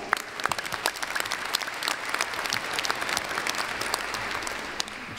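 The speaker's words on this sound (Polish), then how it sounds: "Wielkie brawa." A crowd applauds the choir at a Christmas and New Year charity concert in Bytom with brisk, dense clapping from many hands, lively and sustained throughout.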